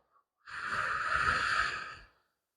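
A single slow exhaled breath during a calming breathing exercise, a steady airy rush lasting about a second and a half, close and alone in otherwise quiet surroundings.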